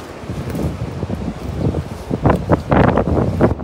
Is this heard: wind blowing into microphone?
yes